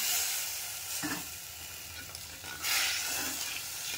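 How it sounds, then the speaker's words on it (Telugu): Tamarind broth with fried green chilies cooking in a hot pan gives a continuous close sizzle and hiss, with a couple of louder bursts as it is stirred. "ఈ చింతపండు పులుసు బాగా ఉడకాలండి"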